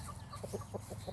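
Rooster in a spring garden clucking, a few short close-up clucks in an irregular rhythm over a steady low background hum, with no voices.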